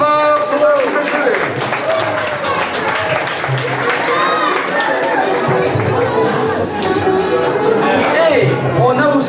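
A live audience claps steadily for several seconds, a thick, continuous patter close by, with crowd chatter and voices mixed in throughout.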